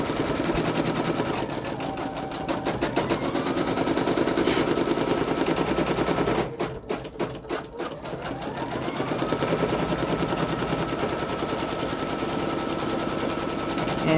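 A domestic embroidery machine stitches a glitter vinyl appliqué onto a T-shirt left chest, its needle chattering in a rapid, steady mechanical rattle up close, with a brief pause and speed change midway.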